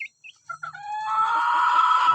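Free-range village chickens cluck in short calls before a rooster lets out one loud, close, drawn-out crow, with faint low talk in the background.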